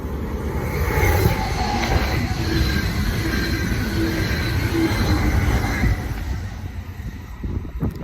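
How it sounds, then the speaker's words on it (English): An interstate train rumbles past close by, a loud continuous roar of wheels on rails with faint squealing, steady throughout before easing slightly at the end. "There's a train coming."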